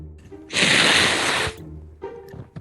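A single loud, explosive sneeze bursts out for about a second during a Rainbow Six game session, with quieter voiced sounds before and after it.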